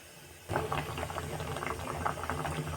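Wheat and lentil bisibelebath bubbling steadily in a pot of water, a soft continuous simmer with faint popping that starts abruptly and stays even at close range.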